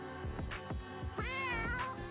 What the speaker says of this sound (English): There is Taco Cat